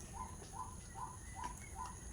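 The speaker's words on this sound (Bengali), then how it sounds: "চারিদিকে বেশ সুন্দর পাখির ডাক কি ভালো" A single bird calls faintly in the distance on a green village morning, repeating a short clear note five times at an even, unhurried pace.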